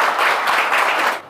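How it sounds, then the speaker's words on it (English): An audience claps steadily through a short burst at a rehabilitation centre visit, dense and fairly loud, tapering off at the end with no talk. "So give me a clap for that."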